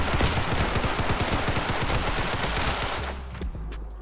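Automatic weapon fire in the Roblox game Criminality rattles out in fast, loud, continuous bursts for several seconds before tapering off near the end.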